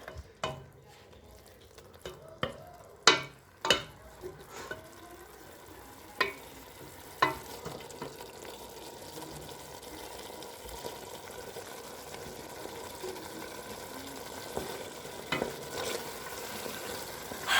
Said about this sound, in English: now we're going to leave it 2 minutes to fry.